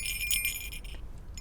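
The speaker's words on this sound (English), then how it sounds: "The first one is the bell." A small bell rings in a Christmas program for young school grades, with bright metallic strikes and a shimmering ring that fades out, moderately loud and close, with no talking.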